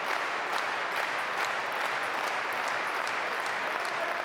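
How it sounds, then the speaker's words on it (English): A table tennis crowd at a men's singles match at the German Open applauds steadily, a dense, even patter of many hands clapping throughout with no talk over it. "Table tennis fans looking for an incredible match here, clapping on Freitas to come back."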